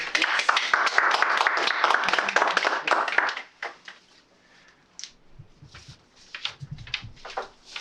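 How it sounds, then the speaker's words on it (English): Audience applause at a Toastmasters club meeting: a dense, steady burst of clapping fills the first three seconds, then breaks into a few scattered claps and light taps in a quieter room. "let's give him a big round of applause."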